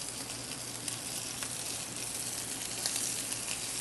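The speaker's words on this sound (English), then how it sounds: "And then carefully place your scallops in the hot pan." Scallops seared in a very hot sauté pan, producing a loud, continuous, dense sizzle that holds steady throughout, close up and with no voices.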